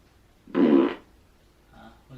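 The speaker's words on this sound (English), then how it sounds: "Who's farting?" A single short, loud fart lasting about half a second, a raspy buzzing burst close to the microphone, followed by faint quieter sounds.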